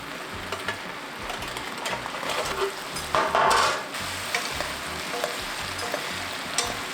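Braising sauce of vinegar and water for shiitake mushrooms bubbles and sizzles at a steady boil in a pan, with a brief louder burst midway and a few faint clicks; no one speaks.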